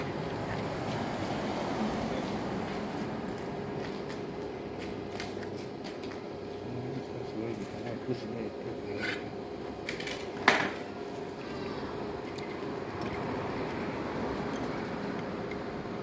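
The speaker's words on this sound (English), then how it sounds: "Here now you are going to do a full welding using the low hydrogen welding rods." Arc welding with low hydrogen rods on a vehicle axle housing and shock absorber bracket gives a steady, continuous crackling hiss at moderate level, with one sharper pop partway through.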